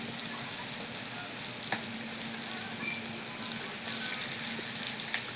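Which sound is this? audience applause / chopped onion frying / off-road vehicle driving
chopped onion frying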